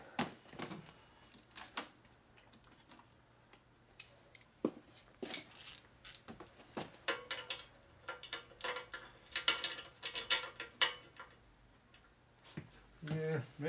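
A socket wrench ratchets on a custom Evo chopper during a tune-up, giving irregular bursts of clicking and metallic ticks with small clanks, close and intermittent, with people talking at times.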